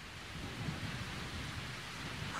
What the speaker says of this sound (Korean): 게다가 이 천둥 소리는 너무 무서워.